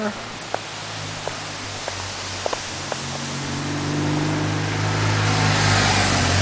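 A car drives past on a mountain road toward Col d'Allos in France, its engine rising and swelling steadily from faint to loud over wind rush, with a few light clicks early on.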